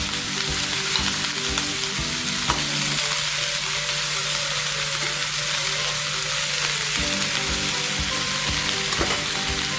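Chili, salt, tamarind and tomato fry in a pan, a dense continuous sizzle close by with the soft scrape and knock of a spoon stirring through it.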